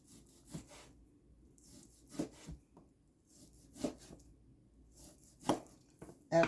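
A knife slices flank steak on a cutting board in a home kitchen. Quiet, close, irregular knocks of the blade meeting the board are separated by soft scraping and near-silent pauses.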